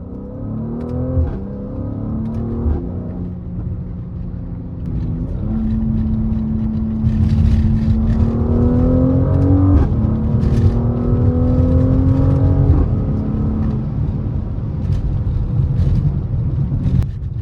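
A Mercedes GLC43 drives along, its engine droning and rising in pitch as it accelerates through the gears, with steady road and cabin noise throughout and no talking.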